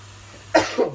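Two quick coughs close by, the first sharper and louder, the second softer, after a brief quiet moment.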